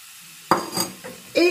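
Sliced mushrooms tipped into a pan of nearly cooked leeks, with a sudden clattering drop, a few utensil clinks and scrapes, and a light sizzle, close by and without speech.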